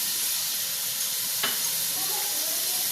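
Ginger garlic paste, frozen rather than fresh, frying in a pan for a chicken and potato curry, giving a steady, even sizzle that stays at one level throughout with no voices.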